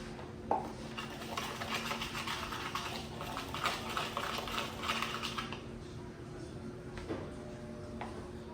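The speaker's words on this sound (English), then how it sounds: "And I'm gonna stir this in here real good." Shrimp seasoned with Old Bay are stirred in a pan, giving soft, continuous scraping and clinking from a utensil under a faint sizzle and low steady hum, quiet and close.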